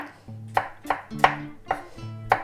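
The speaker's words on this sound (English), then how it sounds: "I cut the apple in cubes." A knife chops an apple into cubes on a cutting board, five crisp close knocks at an even, unhurried pace, with no voices.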